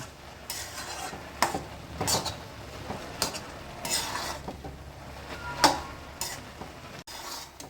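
Carrot halwa with ghee and cashews being stirred in a pot, giving a steady run of scraping spoon strokes against the metal with soft sizzling beneath, close and fairly quiet.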